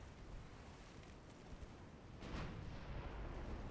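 Naval guns firing in the Ultimate Admiral Dreadnoughts warship game, a deep, distant boom rolling over a steady windy sea-like rumble, with one heavier blast swelling partway through.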